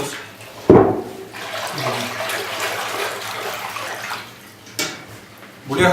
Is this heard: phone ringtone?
no